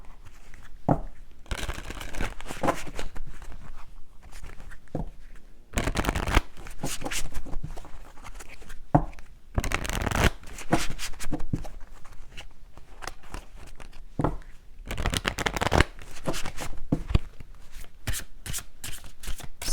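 A deck of tarot cards is shuffled by hand, repeated riffling and sliding bursts with short pauses between them, close and fairly loud with no talk.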